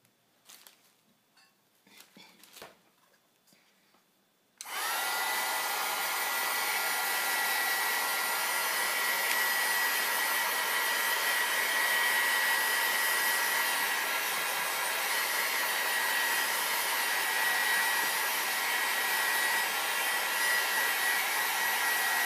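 A handheld dryer switches on with a sudden loud whoosh and blows steadily and close for a long stretch, drying a weathered-look shoebox craft project, after a few faint handling clicks.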